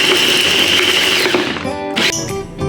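A blender grinds spices with a little oil into a paste for chicken tongseng. It makes a loud, steady whir for about a second and a half, then shifts to rattling and clattering as it slows.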